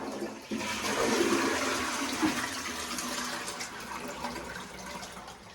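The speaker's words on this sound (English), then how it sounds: "gonna do our test flush" A Saniflo upflush toilet test flush, filled from a bucket: a loud, continuous rushing gurgle of water that holds for several seconds and slowly eases off, with no voices over it.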